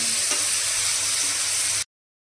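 A steady hiss of vegetables frying in hot oil, close and even, ending abruptly.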